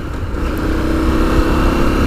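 A 2017 KTM 1290 Super Adventure T motorcycle engine runs with a steady, low, loud drone close by, holding an even note with no talking.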